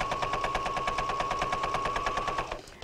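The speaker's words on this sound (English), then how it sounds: "we line up our edges, our cut edges, and we begin to sew" A sewing machine stitches a quilt binding seam with a rapid, even mechanical chatter and a steady whine, close and constant, then slows and stops near the end.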